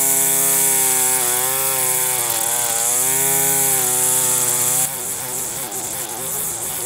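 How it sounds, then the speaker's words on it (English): An ECHO SRM-2620 string trimmer runs loud and close, its engine buzz wavering in pitch, then shifting to a rougher, grittier tone as the line cuts. "I have some string trimming to do."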